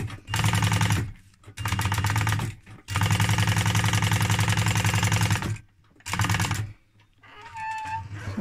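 Sewing machine top stitching leather for garment construction, running in loud steady bursts of rapid stitching separated by short pauses, with no talk over it.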